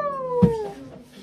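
A cat gives a single short meow, close and fairly clear, over a steady tonal background with faint voices.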